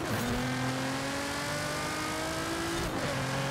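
Nissan GT-R engine in Forza Horizon 5 revving steadily and loudly, with a sustained high whine and rising harmonic tones that dip briefly near the end, all alone with no talk.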